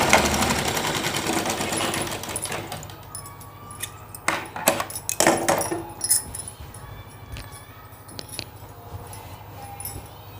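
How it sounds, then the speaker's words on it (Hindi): Sewing machine stitching a four-panel petticoat, running in fast continuous bursts at first, then stopping and starting with short runs and fabric handling clatter, heard close up. "जैसा सिलाई हमने यहाँ लगाया है वैसे ही सिलाई हमें इस साइड भी लगाना है।"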